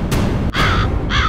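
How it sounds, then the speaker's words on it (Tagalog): An albino large-billed crow, also called a jungle crow, in Misamis Oriental, giving three loud, close caws in quick succession. "It's clearly that what you said to me is a albino large-billed crow or jungle crow."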